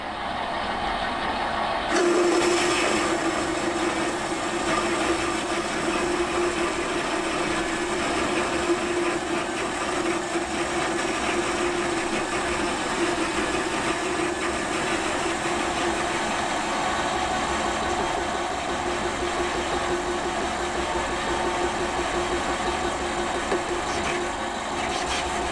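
A lathe turns a Jerry Howell V-twin crankshaft, a continuous mechanical drone with a steady mid-pitched whine from the cut that runs almost the whole time at even loudness, with no talking.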